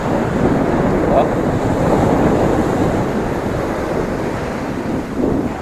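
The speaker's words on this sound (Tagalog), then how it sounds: "Tignan nyo naman yung alon." Pacific Ocean surf rolling in at a surfing beach in Catanduanes, with loud, continuous washing roar and heavy wind buffeting the microphone, a couple of swells rising briefly above the steady rush.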